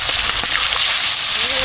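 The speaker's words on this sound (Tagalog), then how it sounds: "Ngayon po isalang na natin yung ating mga tilapia. Prito na tayo." Tilapia sizzles and crackles in hot oil, a dense, bright hiss with popping spatters, close and loud, while people talk in the background.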